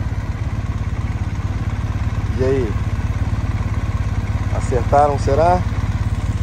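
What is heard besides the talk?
motorcycle engines idling at a motorcycle dealership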